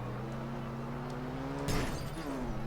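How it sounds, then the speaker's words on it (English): A Trabant station wagon engine in Garry's Mod drones steadily with a buzzy two-tone hum, broken midway by a sudden sharp crash before the engine note carries on. "it sounds like it has more of a high-performance motorcycle engine than a two-stroke, two-cylinder engine"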